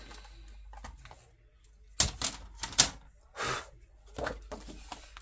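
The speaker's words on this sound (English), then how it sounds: "That's why we have paper cutters. We have a trimmer." A paper trimmer slices through paper for scrapbooking, giving several sharp clacks and swishing strokes at close range, separated by quiet pauses with faint background noise.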